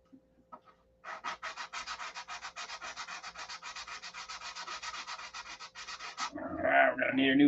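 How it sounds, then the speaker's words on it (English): A SIG Magnum handgun part is sanded by hand with sandpaper in fast, even rasping strokes, a dense rhythmic scrubbing run of about five seconds, followed by louder muffled handling noise. "We're going to need a new piece of sandpaper, guys."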